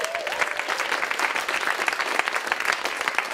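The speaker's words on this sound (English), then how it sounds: "So clap it up for us one more time." Audience clapping at a comedy show, a short, lively burst of many hands applauding at steady volume, dense and close with individual claps flickering through.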